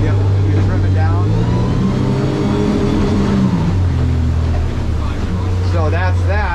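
A Stabicraft 1850 aluminium boat's outboard motor runs steadily on the water, a loud low engine drone whose pitch shifts as the throttle and trim change, with someone talking over it.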